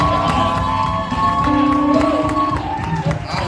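A church congregation cheers and acclaims together, a dense crowd roar with whoops and raised voices running throughout, loud and close, with some voices audible within it.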